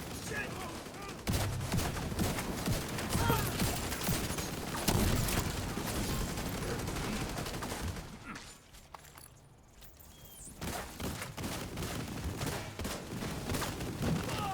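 Submachine gun fire in a shooter video game, long sustained bursts of rapid shots with a brief lull near the end before firing resumes, a voice talking over it.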